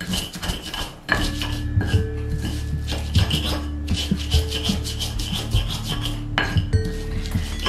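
Kencur and sugar ground together in a mortar for a Sundanese dish, a steady scraping and rubbing with rhythmic knocks of the pestle, close and continuous with no talk.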